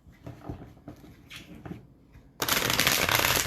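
Cards are riffled and shuffled: a few soft scattered flicks, then a loud, dense burst of rapid flutter close by.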